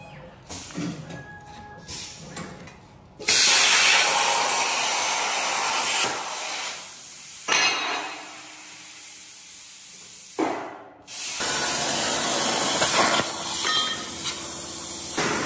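Welding on a steel frame building: loud, close, steady crackling hiss in long unbroken runs, cut by brief pauses before each new bead, with no talking.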